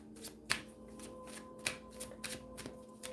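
Practical self-care oracle cards shuffled by hand, close and quiet, a series of soft riffling flutters and light slaps in an uneven rhythm, with no talking.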